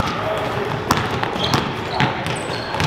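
A basketball bounces a few times on an indoor court during a pickup session after a rebound, with sharp thumps heard under steady crowd chatter and nearby talk.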